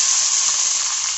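Two dried red chillies and black mustard seeds sizzle in hot white oil, making a loud, continuous bright hiss close up with no voices.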